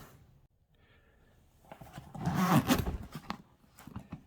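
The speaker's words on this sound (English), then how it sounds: "There, it's zipped up." Zipper on a Yeti cooler being pulled closed after a repair, a quiet start then a rough ratcheting zip that swells and fades over a couple of seconds, close up.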